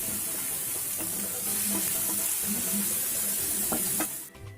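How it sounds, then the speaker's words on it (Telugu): Salt and turmeric frying in hot oil in a pan while poha is prepared, a steady close sizzle with a few stirring scrapes, ending abruptly near the close. "వేసుకున్నాక 1 నిమిషం ఫ్రై చేసుకోవాలండి."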